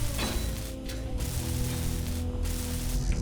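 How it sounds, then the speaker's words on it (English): Welding blocks in the video game Space Engineers, a steady mechanical whir with a faint ratcheting, buzzing texture running continuously, close and moderately loud. "I'm gonna go ahead and weld up the stuff that's down here"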